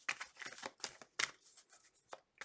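Close, quiet shuffling of a tarot deck: a series of papery riffles and flicks in uneven bursts, with a short pause before a final riffle.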